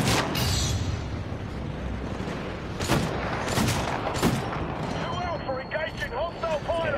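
Gunfire and heavy blasts in the Titanfall beta, with several broadband bursts standing out over a dense, constant battle din, and a player talking over it throughout.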